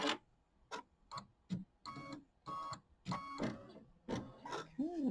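An embroidery machine stitches a tack-down line on a pieced quilt block, giving a series of sharp, regular clacking bursts up close, with brief pauses between them.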